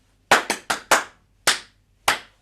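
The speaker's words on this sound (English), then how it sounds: "If we were to play this using our hands, it would sound like this." Hand claps ring out alone, playing a triplet rhythm: a quick group of four followed by two more spaced farther apart, crisp and close.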